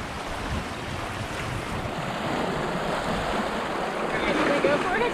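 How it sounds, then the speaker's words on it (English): Ocean waves washing in on a rocky Pacific coast beach, a continuous loud surf roar with wind buffeting the microphone, swelling slightly toward the end, with a voice briefly heard. "Waves coming in."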